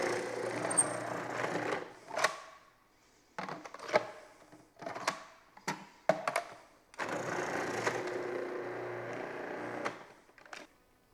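A food processor whirs in several bursts of a few seconds each as it thinly slices onion, with clattering pauses and short pulses in between.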